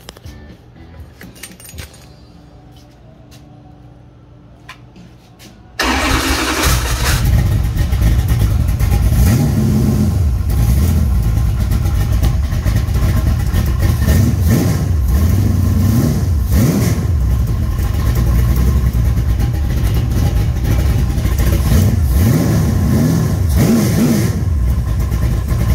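After a few seconds of quiet handling and clinks, a 422 cubic inch small block Mopar 340 stroker with a Scat stroker kit fires up loudly, then idles roughly with repeated blips and revs.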